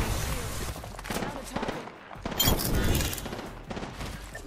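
Rapid bursts of gunfire in an Apex Legends match rattle out in quick clusters over a few seconds, mixed with a player's voice talking.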